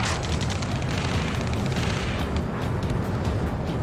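Rocket explosions in the Ace Combat 7 video game, a steady dense roar of booming blasts and crackling gunfire, fairly loud and continuous throughout.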